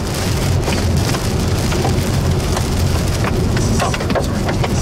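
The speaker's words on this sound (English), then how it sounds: "Look at hail." Hail falling during a severe tornado-outbreak thunderstorm, with a loud, steady roar of small stones and rain beating on surfaces close by, plus scattered sharper ticks of individual impacts and no talking.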